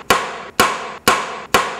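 An auctioneer's hammer comes down at a property auction, four sharp, loud, evenly spaced wooden knocks about half a second apart, each with a short ringing decay and no voices over them.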